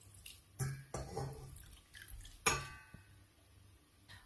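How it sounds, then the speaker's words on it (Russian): Water poured over 210 grams of sugar in a small saucepan for syrup, heard as quiet splashes and a few sharp metallic clinks with gaps of near silence between them. "Заливаю водой"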